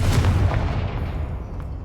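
A Confringo blasting spell in Hogwarts Legacy lands as one loud, deep boom at the start, then rolls off into a fading rumble over about two seconds.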